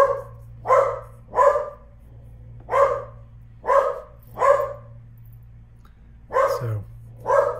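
Dogs bark repeatedly at a mail carrier arriving at the house, with loud, sharp barks in uneven bursts and short pauses between them over a low steady hum.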